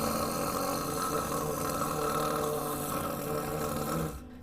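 A deliberately rough, dirty snore imitated by a voice to make the tongue root vibrate, a steady close-up rattling rumble lasting about four seconds before cutting off.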